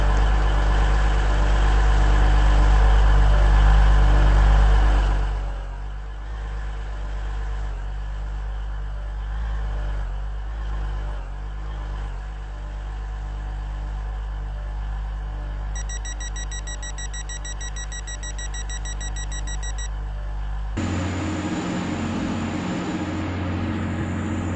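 A three-coach Airlink shuttle train on the Stepford airport line gives a steady, loud mechanical drone. A short electronic chime sounds near the end, then the tone shifts as the train moves on. No voices.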